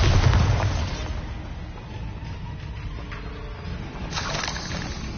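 A spell explosion in the video game Hogwarts Legacy: a loud, booming burst opens the clip and fades into a rumbling tail, with a second, softer swell near the end.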